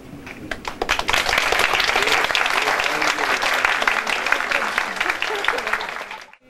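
An audience at a high school special lecture breaks into strong, sustained applause, many hands clapping together loudly and evenly for about six seconds before cutting off.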